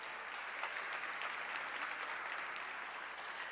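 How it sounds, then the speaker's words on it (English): Audience applause for a council member at a public budget forum, a steady, even wash of many hands clapping, fairly soft and distant-sounding, with no talk over it. "Give her a round of applause."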